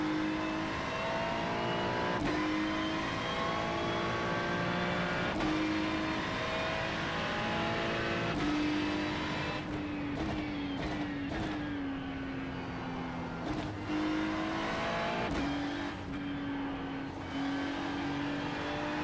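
Ferrari 296 GT3 race car in the iRacing sim at Spa, Belgium, held at a steady high engine drone with rising and falling revs and gear changes, sliding slightly on cold tyres, continuous and close with no talk.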